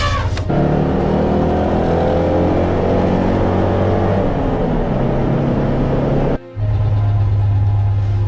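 A car engine rumbles loudly and steadily up close, its deep tone wavering with revs, briefly cutting out before resuming.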